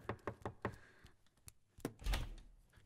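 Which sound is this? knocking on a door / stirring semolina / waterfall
knocking on a door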